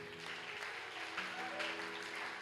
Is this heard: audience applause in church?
yes